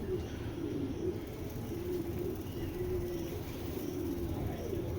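Rare pigeons coo and vibrate low and steadily in a loft, a continuous close murmur with faint background noise and no clear speech.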